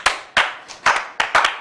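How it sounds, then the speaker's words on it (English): A few separate sharp hand claps ring out from a small audience, spaced irregularly with short gaps between them, close and fairly loud with no talking. "And all of you clap."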